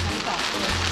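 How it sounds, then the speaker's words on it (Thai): Heavy rain pours down on a Seoul street as a dense, steady hiss of falling water fills the brief moment, with a low hum beneath. "ฝนตกหนักเลย"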